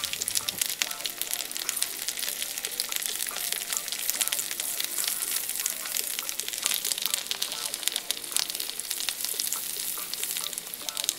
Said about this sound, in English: There goes the tempeh burger into the frying pan,